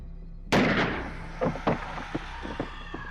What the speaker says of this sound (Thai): แล้วก็ตวัดปืนขึ้นเล็งจับไปที่ร่างนั้น ครั้นแล้วก็เหนียวไกลออกไป